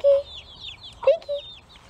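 Chickens cluck and squawk nearby in short bursts, with a few sharper calls breaking through the quiet background.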